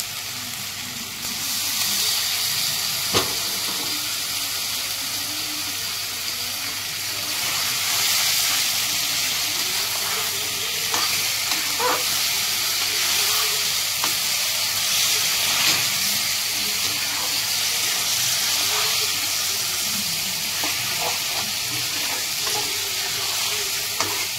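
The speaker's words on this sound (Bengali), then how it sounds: "একটুখানি জল দেবো যাতে মশলাটা না পুড়ে যায়।" Meat masala with a little water added sizzles and steams steadily in a pan, a continuous broadband hiss with occasional small pops and stirring scrapes, close and fairly loud throughout.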